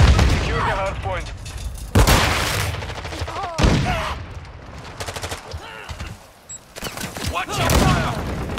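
Bursts of gunfire and grenade blasts from the video game Call of Duty: Modern Warfare 2 come in several loud, sharp clusters, with voices talking between and over them.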